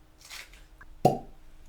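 A rubber cork pops out of a Basil Hayden's bourbon bottle, 80 proof, in one short, close, hollow plop after some faint handling noise.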